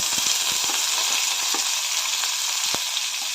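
Onion, tomato, garlic, curry leaves and cumin sautéing in a pan with crackling mustard seeds, a loud continuous close sizzle broken by sharp popping clicks throughout.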